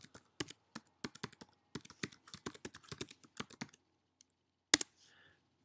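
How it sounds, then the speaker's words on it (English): Fast keystrokes on a computer keyboard while entering a host name into an FTP client, a quick irregular run of crisp clicks, then a pause and one louder final key press. "Type in your host name"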